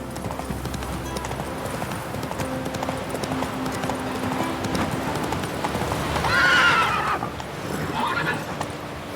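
A horse in The Witcher 3: Wild Hunt gallops with a steady, continuous clip-clop of hooves, and a loud whinny rises near the end over the running hoofbeats.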